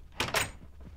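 A door closing in the video game Minecraft, two quick wooden clacks in fairly close succession, followed by a faint softer thud, with no talking.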